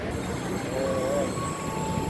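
A train pulling into a station on the Merak–Cilegon line, a steady low rumble of railcars with a brief wheel squeal rising midway, nearby and fairly loud, with faint voices in the background.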